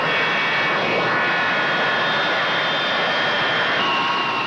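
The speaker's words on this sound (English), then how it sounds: "These Impala are Italian planes, produced here under special license." An Impala jet aircraft powered by Rolls-Royce engines flying, a loud, continuous roaring jet whine with a steady broad rush and no pauses.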